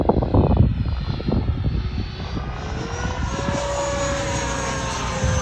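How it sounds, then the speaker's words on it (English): A Freewing Hornet RC jet fitted with an FMS 12-blade electric ducted-fan motor flies past, a loud steady whine that rises in pitch over a breezy rumble with gusty wind noise early on. "It sounds way better with that FMS 12-blade motor though."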